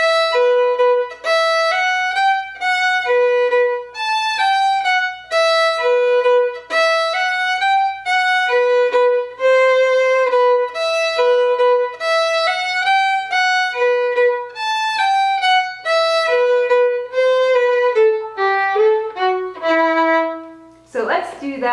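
Solo fiddle plays the B part of a tune as a continuous lively run of bowed notes, close and loud, ending on a held low note and a brief scrape.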